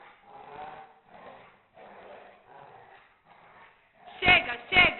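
Maia, a dog, growls playfully on command in a few short bursts while a person urges her on nearby, ending in a couple of louder yips or barks.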